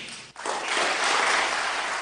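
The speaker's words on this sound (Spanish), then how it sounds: "Por supuesto, arrancó aplausos." Applause from an audience at a political speech on ending the troika and its policies: a dense, steady wash of clapping that starts after a brief dip and holds loud and even throughout, with no speech over it.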